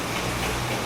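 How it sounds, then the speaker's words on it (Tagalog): Heavy rain pours down in a sudden downpour, a steady even hiss of water with faint ticking drops throughout. "biglang bumuhos yung malakas na ulan"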